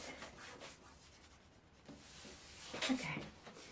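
Masking tape being rubbed down firmly onto a surface while laying out a tape design, a soft, close scratchy rubbing in uneven strokes that grows louder toward the end.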